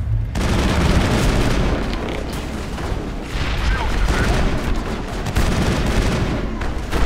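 Gunfire and explosions in a Mass Effect 1 firefight: dense, continuous booming blasts and rattling shots fill the whole stretch, loud and close, with a heavy low-end rumble.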